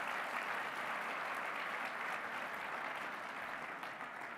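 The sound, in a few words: audience applause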